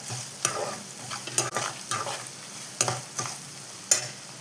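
Three dried red chillies fry in oil in a pan for a tamarind curry, with a soft continuous sizzle broken by sharp scraping strokes of a spoon at irregular intervals.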